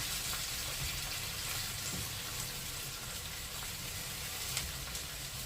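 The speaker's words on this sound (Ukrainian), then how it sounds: "помішуємо гарненько цибульку, щоб вона не пригоріла, щоб вона гарно золотилася" Onions cooking in a pan and stirred so they turn golden, a soft continuous sizzle with a low background rumble, quiet and even with no talk.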